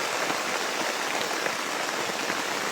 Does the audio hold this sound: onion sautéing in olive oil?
no